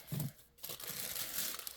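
A sheet of cleanup paper used in gel plate printing is crumpled up close by, a brief crinkling burst followed by softer rustling and crackle, with no talk.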